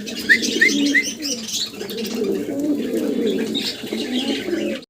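Farm pigeons kept in cages coo in low, rolling bursts, several birds overlapping close by, with scattered chirps and light rustling above the steady cooing.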